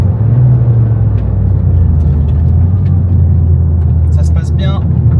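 A Toyota GR Yaris being driven hard, its engine and road noise forming a steady deep rumble inside the cabin, with a voice exclaiming near the end.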